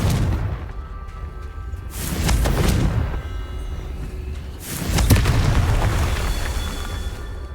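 Confringo spell explosions in the game Hogwarts Legacy: two deep, rumbling booms a few seconds apart, each swelling and slowly decaying over a low background hum.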